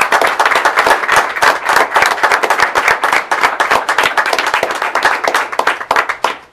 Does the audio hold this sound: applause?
yes